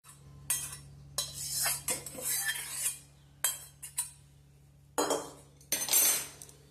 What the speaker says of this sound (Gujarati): સરસ ચમચી વરિયારી શેકીશું